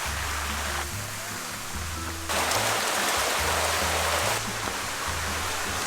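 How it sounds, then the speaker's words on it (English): Steady, hissing rain fills the background, growing louder partway through, with low rumbling tones underneath. "it has started raining"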